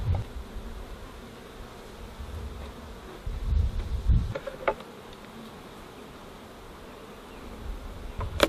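Honey bees hum in a dense, continuous drone around a hive near orange blossom, close and steady, with a few louder swells and thuds as individual bees pass near.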